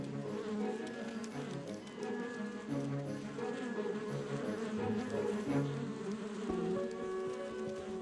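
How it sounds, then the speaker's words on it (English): Honeybees inside a hive make a dense, continuous buzzing drone that is steady and moderately faint, with overlapping wingbeat tones and no talking. "she climbs on her sisters' backs and vibrates her abdomen"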